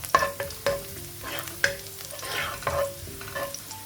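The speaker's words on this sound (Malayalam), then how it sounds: "ഓയിൽ ചൂടായതിലേക്ക് വെളുത്തുള്ളി കൊത്തി അരിഞ്ഞിട്ട് ഇട്ട് കൊടുക്കുക അതൊന്ന് മൂപ്പിച്ചെടുക്കുക" Chopped garlic fries in hot oil for a samosa filling, giving a steady sizzle broken by several sharp scraping stirs of a spoon against the pan, close and clear with no talking.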